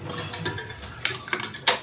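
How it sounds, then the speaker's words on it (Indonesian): A screwdriver pries the spin pulley off a Sharp washing machine: close metallic clicks, scrapes and a sharp clack as the part gives, irregular and moderately loud, with no talking. "Kita congkel, teman-teman, dengan obeng"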